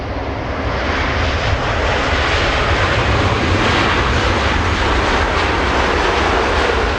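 Airbus A350 jet at Los Angeles International Airport, a loud, steady broadband engine roar that holds constant throughout, heard close and alone.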